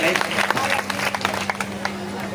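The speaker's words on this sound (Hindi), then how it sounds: "एक बार तालियों से इसकी पुण्य की अनुमोदना करें।" An audience at a Jain temple altar-consecration festival claps briefly in scattered, uneven bursts, moderately loud, with a steady hum and some voices underneath.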